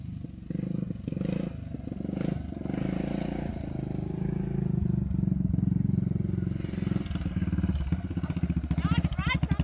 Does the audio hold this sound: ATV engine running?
yes